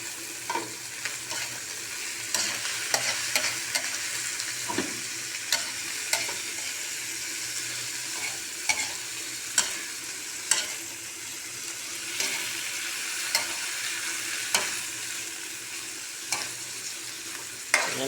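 Egg and bitter gourd are stirred in a frying pan with a continuous sizzle and regular spatula scrapes and taps, close up, with no voices.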